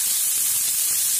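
Onions sizzle steadily in hot oil for a Tamil suliam, a dense continuous hiss with faint crackle, close and unbroken with no talking.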